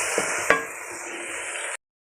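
Masala frying in a pan for an arbi and potato dish gives a steady, close sizzle that runs unbroken, with a couple of sharp spoon-on-pan taps near the start before it cuts off abruptly.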